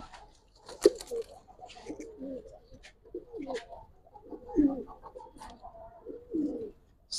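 A Giribaz pigeon coos in several low, rolling phrases close by, with quiet pauses between calls and a sharp knock near the start.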